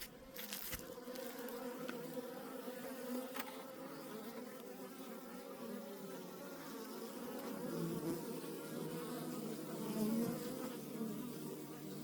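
Honeybees hum steadily around a hive as foragers bring in pollen, a faint, continuous droning buzz that swells slightly toward the end, with no speech.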